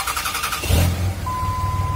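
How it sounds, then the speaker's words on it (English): A 2003 Dodge Ram 2500 with a Cummins diesel turns over and catches, a short burst of cranking breaking into a loud, low engine rumble that settles into a steady idle with a faint whine above it. "I'm going to fire the truck up"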